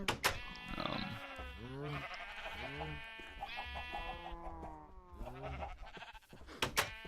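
Sheep in the Minecraft video game bleating repeatedly, several wavering baas one after another, close and clear with a few sharp clicks at the start and end.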